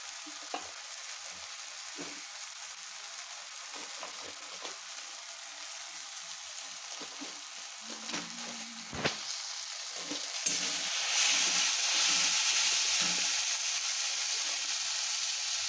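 Rui fish simmers in a tomato curry in a pan, a close, continuous frying sizzle with a few stirring scrapes and taps, swelling into a louder, brighter hiss partway through.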